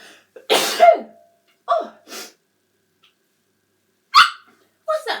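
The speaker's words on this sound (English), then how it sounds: "I really need to sneeze." A person's sneeze bursts out loudly and close, with a short exclamation from a voice after it, then a few quieter sharp breaths and small vocal sounds follow, spaced out with silence between.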